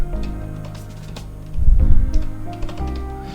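Typing on a computer keyboard while setting up a server: steady clicking keystrokes in irregular bursts at close range, over low background hum with no talking.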